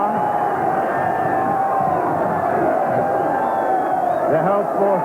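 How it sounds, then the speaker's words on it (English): A crowd cheers steadily at the Hull v Hull KR rugby league floodlit final, a broad, sustained roar from the stands with a commentator talking over it. "The whole portion of the crowd certainly very happy"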